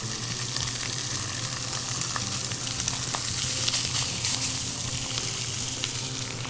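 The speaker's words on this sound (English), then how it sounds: "we'll get the Italian sausage out of the package and give it a nice little sear up" Italian sausage, pressed into one big patty, sears in a hot greasy pan. A loud, dense sizzle runs the whole time, dotted with small pops and crackles, and no one talks.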